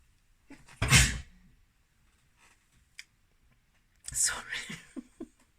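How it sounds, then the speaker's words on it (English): A person sneezes twice, a sharp close burst followed a few seconds later by a second sneeze with a trailing breathy sound, separated by near silence and a small click. "that was me sneezing."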